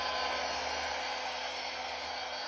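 A blow dryer switched to the cool setting blows continuously nearby, giving a constant airy roar with a faint motor hum underneath and no voices.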